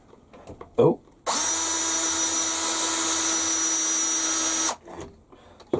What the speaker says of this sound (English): So that's marked it with a 5mm drill.